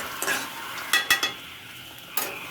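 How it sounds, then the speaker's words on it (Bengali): Spice paste for a prawn malai curry sautés in a pan under a soft sizzle, with a few sharp scraping and clinking strokes of a spatula against the metal. "দেখতেই পাচ্ছেন কীভাবে কষিয়ে নিচ্ছি। মশলা যত বেশি কষানো হবে তরকারি তত বেশি মজা হবে।"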